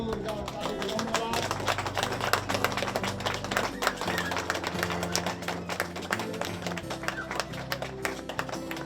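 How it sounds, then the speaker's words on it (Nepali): An audience at a community event claps together loudly and steadily for the whole stretch, with sustained music tones running underneath. "सबैजनाले जोरदार ताली बजाउनुहोला।"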